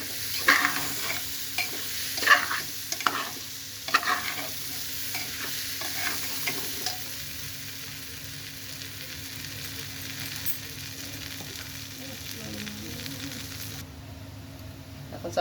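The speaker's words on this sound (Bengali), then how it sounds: "এখন চাউল ভাজা অনেকটা হয়ে গেছে" Rice frying with vegetables in a pan for pulao-khichuri, a steady sizzle with irregular scraping stirs that are stronger early and then ease into a softer continuous frying hiss.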